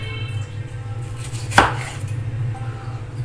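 A single sharp knife chop on a cutting board, cutting an onion into pieces, isolated against a steady low hum.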